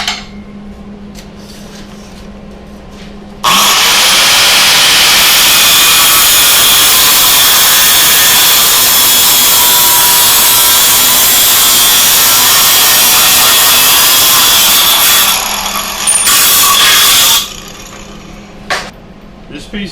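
A power saw cuts through a metal go-kart frame tube, trimming it to length in one loud continuous grinding, whining stretch of about fourteen seconds, starting and stopping abruptly against a quiet room.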